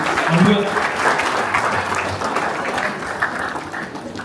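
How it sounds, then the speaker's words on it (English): A crowd at a Samoan performance show applauds steadily, dense clapping that holds at a fairly even level throughout, with some voices mixed in. "let's give one more round of applause for our Tongan family, the Mola family."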